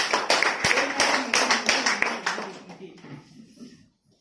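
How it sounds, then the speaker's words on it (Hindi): A seated group at a business presentation claps together, distinct individual claps landing in a loose beat with voices mixed in, gradually thinning and fading to quiet. "एक 30 सेकेंड का हम लोग ताली बजाएंगे"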